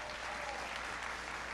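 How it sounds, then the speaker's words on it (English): Crowd applause at a presidential speaking event in Durant, Oklahoma, a steady, even roar of many people clapping at once, heard at a distance and fairly faint, with no break. "Give them a big round of applause."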